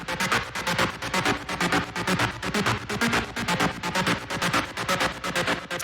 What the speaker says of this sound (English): So the first sound we have here is the ARP